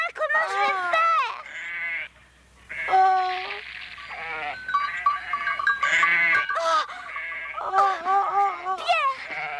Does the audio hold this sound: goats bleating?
yes